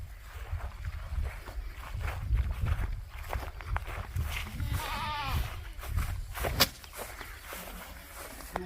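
Goats on a goat farm bleat a few times at moderate distance amid shuffling hooves and footsteps, with faint background voices now and then.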